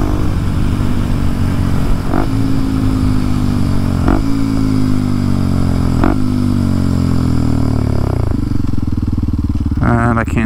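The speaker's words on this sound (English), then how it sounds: "just trying to get a heat cycle through the motor" A Kawasaki KLX 230SM motorcycle engine idles loud and close as it warms through a heat cycle, holding a steady throb with several brief blips of throttle, then a short rev at the end.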